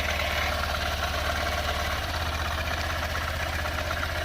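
A 2023 Honda CB125F motorcycle engine fitted with a Yuminashi throttle body idles slightly high indoors, a steady close pulsing putter that stays even and loud throughout with no talking.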